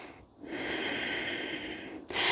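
A long, steady breath is drawn audibly during a yoga practice, rushing and slightly wheezy for nearly two seconds. A sharper, snort-like exhale follows at the end, close and quiet.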